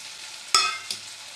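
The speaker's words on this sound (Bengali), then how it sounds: "ভালো করে কষিয়ে নেব মশলার সঙ্গে" Fish heads frying with spices, a soft sizzle cut by one sharp clatter and a lighter scrape a moment later, close and short with no voices.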